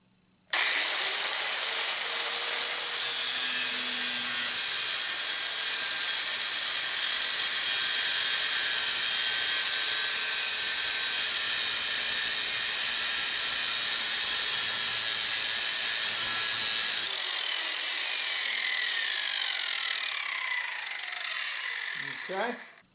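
An angle grinder cuts into a salvaged steel garden hoe, giving a loud, steady high-pitched whine that holds for about sixteen seconds, then drops in pitch and spins down to a stop.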